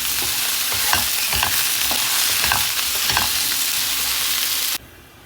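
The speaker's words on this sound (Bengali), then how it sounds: "সব সবজি ভাজা হয়ে গেছে আলু আর হচ্ছে বেগুন" Potato and eggplant frying in a pan with steady oil sizzle and repeated scraping stir strokes, close and loud, cutting off abruptly near the end.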